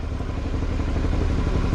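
A Suzuki V-Strom motorcycle engine runs steadily and close by, a loud continuous rumble with no talk over it.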